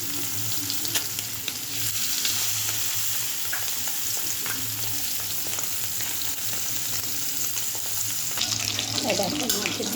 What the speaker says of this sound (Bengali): এটা এখন মাছের ডিম হয়ে গেছে ভাজা